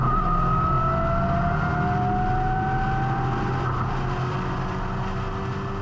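A Lotus race car at full throttle on the Paul Ricard circuit, a loud, continuous engine roar with a steadily rising whine heard close up as it accelerates, no voices.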